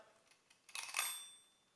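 A small bell-like kitchen timer ding rings out once after a few soft clicks, bright and close, then fades away over about a second.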